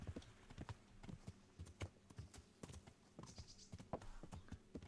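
Horse hooves clip-clop in steady, uneven beats as a horse is ridden in the medieval video game Kingdom Come: Deliverance, quiet and fairly close with a faint ambient background.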